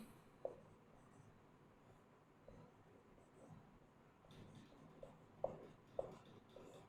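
A pen scratches faintly across paper as someone writes while teaching, soft intermittent strokes with a few sharper taps in a quiet room.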